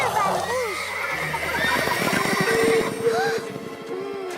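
Cartoon horse whinnying in a wild-horse scene, several rising and falling neighs with hoof clatter behind, over music and sound effects.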